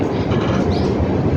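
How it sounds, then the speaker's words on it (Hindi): A train pulls away from Chilbila railway station on the Pratapgarh–Sultanpur line and gathers speed, with a steady, loud rumble and rhythmic clickety-clack of wagon wheels on the rails, close by and continuous. "धीरे धीरे अपनी गाड़ी फिर से स्पीड पकड़ रही है चिलबिला रेलवे स्टेशन से"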